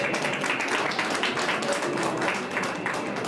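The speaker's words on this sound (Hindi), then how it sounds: "जोरदार तालियां बजा रहे हैं" A crowd gives dense, sustained applause for a top-10 finisher at a district chess association closing ceremony in Chamba. The clapping is steady and even throughout.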